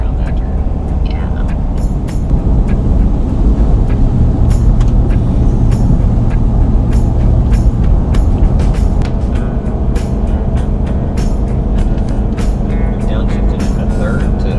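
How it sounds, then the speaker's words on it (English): A truck engine drones steadily on I-40 westbound between Asheville and Sevierville, heard from inside the cab as it downshifts into third gear, with road roar throughout and short clicks and rattles. "Downshifted into third to keep control of the speed."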